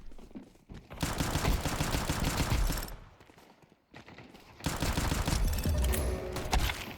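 Rapid bursts of automatic gunfire from a shooting video game rattle loudly in two long volleys split by a brief lull, dense and close with no voices over them.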